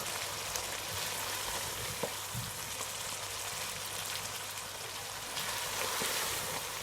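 Steady, dense sizzling of mutton karahi frying in a wok after chopped green chili goes in, a constant close hiss with faint crackles and no voices.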